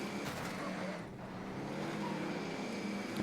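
Car engine drone in Call of Duty Warzone, a steady close roar with faint tire noise that holds throughout and dips briefly partway through, with no voices.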